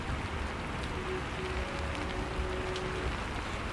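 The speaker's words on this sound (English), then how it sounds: "This rain is so soothing." Steady rain falling on a rainy day, a dense even patter with faint droplet ticks and a soft tonal hum partway through, constant from start to end.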